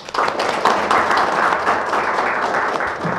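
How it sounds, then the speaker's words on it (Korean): An audience applauds at a National Assembly forum on civil servant overtime, a sustained, even burst of many hands clapping from start to finish. "다시 한번 큰 박수 부탁드리겠습니다"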